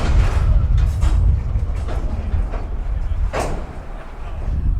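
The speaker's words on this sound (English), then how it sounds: "The coal train stopped, and then he started back up again just as quickly." Coal train of leased hopper cars rolling steadily past nearby, a continuous loud low rumble with wheel and car noise and a brief brighter squeal midway.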